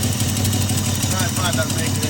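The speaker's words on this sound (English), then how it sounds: "I find that making it a bit rough. Sounds like your exhaust is blowing." An Alfa Romeo 33 16v engine idles roughly with its exhaust blowing, a close, uneven throbbing rumble with puffing pulses running throughout while people talk over it.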